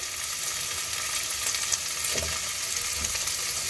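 Filipino beefsteak, bistec, stir-frying in a pan, a steady close sizzle with occasional scraping stirs of the utensil, no voices present.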